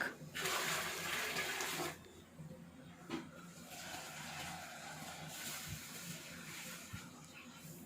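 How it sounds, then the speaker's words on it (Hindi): Water splashes and pours into a cooking pot of chicken haleem in a couple of bursts, with a steady gush early on, then quieter clinks and trickling as the flow continues. "पानी डालेंगे इसमें हम 5 जग"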